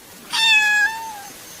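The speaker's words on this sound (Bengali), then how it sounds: "বাড়ির চৌকাঠের ওপরে কালো বিড়ালটা অনবরত কেঁদে চলেছে" A single clear, drawn-out meow from a nearby black cat, rising then trailing off, against a quiet background.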